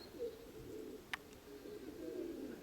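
A pigeon coos faintly nearby, a soft low call in a quiet space, broken by a single sharp tap.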